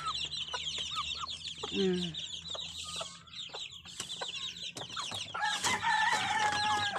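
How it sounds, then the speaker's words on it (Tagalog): Chickens cluck and chatter close by in a flock, with a rooster crowing in the mix. The bird calls come thick and steady, with a voice speaking now and then underneath. "nangangagat tong manok na to pero mabait"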